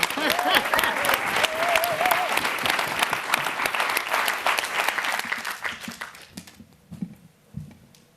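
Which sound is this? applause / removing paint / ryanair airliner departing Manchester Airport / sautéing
applause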